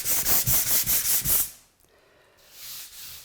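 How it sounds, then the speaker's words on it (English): Sandpaper rubs back and forth over a surface in about seven quick, even, close strokes, then stops, leaving a softer scraping afterward. "So don't just take a bit of sandpaper and sand that."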